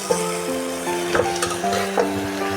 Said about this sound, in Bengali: একবারে সুন্দর করে নাড়াচাড়া দিয়ে সুন্দর করে ভেজে নেবো